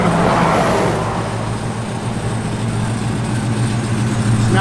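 A 1969 Chevrolet Chevelle SS idles nearby with a steady, rumbling low drone that holds constant and loud throughout, with no talk over it.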